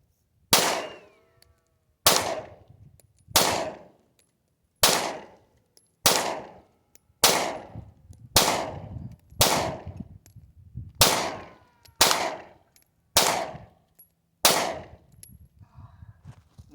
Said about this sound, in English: I'm still shooting a little bit low.